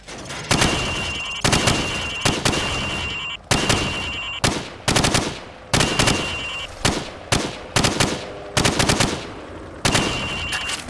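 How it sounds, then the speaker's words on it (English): Loud, close automatic gunfire rings out in rapid bursts in a Call of Duty training range while pop-up targets are shot through wood, with short pauses between volleys and sharp metallic impacts. "I want you to shoot the targets through the wood."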